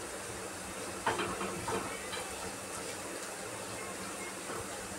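Bitter gourd (karela) slices fry in a pan with a quiet, steady sizzling hiss and a few faint pops and crackles near the start, no voices.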